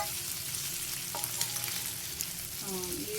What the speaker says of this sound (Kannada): ಇವಾಗೆಲ್ಲ ಫ್ರೈ ಆಗ್ತಾಯಿದೆ ನೋಡಿ.